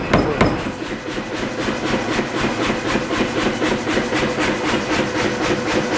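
Steady, rapid hammer blows on a wootz steel knife blade at the forge, a dense even rhythm of ringing metallic strikes carrying through the whole stretch with no talk over it.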